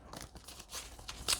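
A Moonology oracle card deck is shuffled by hand three times, giving a quick run of soft papery riffles and crinkly slides. The sounds are close and fairly quiet, with a brief louder flick near the end.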